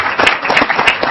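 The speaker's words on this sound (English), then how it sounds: "I'd like to give a big round of applause" Brief burst of audience clapping for two guest professors, a quick, close patter of many hands with no voices.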